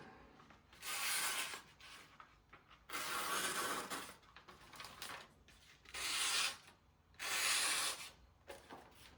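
A knife with carbide-rich steel is sharpened on an Ohira Renge Suita natural whetstone. Four long, rasping strokes come close and steady, separated by short quiet pauses.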